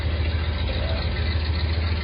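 A 1979 Lil Red Express truck idles with its exhaust stacks rumbling, a steady low engine drone that holds even and continuous throughout.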